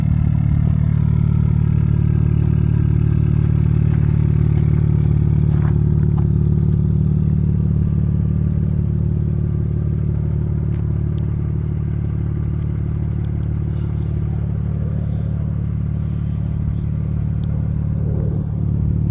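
A 2022 BMW M3 Competition xDrive in its loudest exhaust mode idles with a deep, loud, steady rumble that holds close and constant, with faint clicks over the drone.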